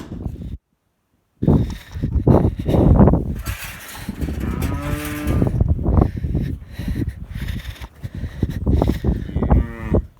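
Cows moo repeatedly, several long, loud lowing calls overlapping one another outdoors, with a brief silence near the start and rustling in the background.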